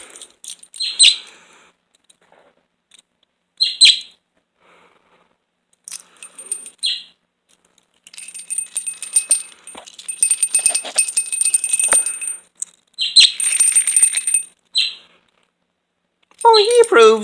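A pet bird chirps and tweets in sharp bursts between pauses, close and loud, with a keychain souvenir jangling and metallic clinks mixed in; a person talks at moments.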